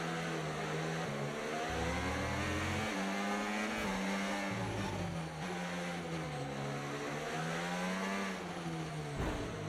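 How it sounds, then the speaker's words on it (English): Engine howl and tire noise from a car in a racing video game carry on without a break, loud and close. The pitch climbs and drops repeatedly as the wheels spin and the car shifts through its gears. "A lot of wheel spin there."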